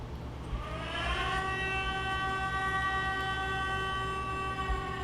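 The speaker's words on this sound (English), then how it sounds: "Her heart could hear the siren going off." A siren wails steadily, rising slightly at first and then holding a sustained, loud tone for several seconds with no voices present.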